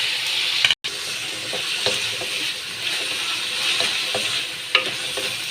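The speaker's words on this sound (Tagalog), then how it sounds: "Ayan na, hinahalo ko na siya." Ground pork giniling and potato cubes sizzle steadily in a hot pan while a spatula scrapes and stirs them, with intermittent clicks and scrapes over a continuous frying hiss.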